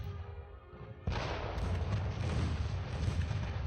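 Warship secondary guns firing in Ultimate Admiral Dreadnoughts, a sudden heavy report after a quiet second, then rolling booming gunfire and rumble sustained to the end.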